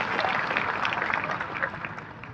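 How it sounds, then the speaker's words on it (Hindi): Steady applause from an outdoor crowd at a World Tribal Day gathering with a tent and stage in Dungarpur, a dense continuous wash of clapping heard close for a couple of seconds. "उसके लिए सबसे पहले आप ताली बजा के अभिवादन करिए"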